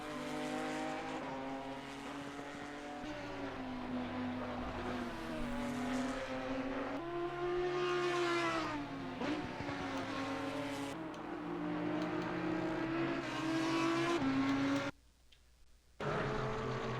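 Two Porsche GT4 race cars lap Brands Hatch in wet conditions, their engines droning loud and steady with rising and falling pitch through gear changes, continuous for most of the stretch before cutting briefly near the end.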